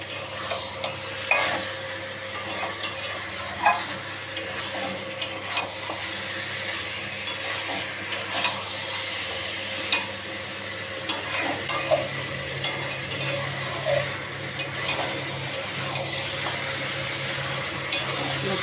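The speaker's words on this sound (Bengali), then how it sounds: "এবার ভালো করে কষিয়ে নেব।" Mutton with spices stir-fries in a pan, with a continuous loud sizzle and frequent rhythmic spatula scrapes and clinks against the pan, heard close up for a long stretch without talking.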